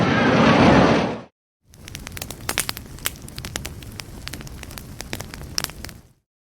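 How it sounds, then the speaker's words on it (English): Campfire crackling while marshmallows roast, with sharp irregular pops and snaps over a soft hiss, moderately close, following a brief burst of broadband rushing noise and a short silence. "You heard roasting marshmallows at a fire."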